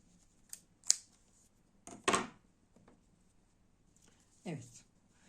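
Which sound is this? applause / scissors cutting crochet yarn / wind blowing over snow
scissors cutting crochet yarn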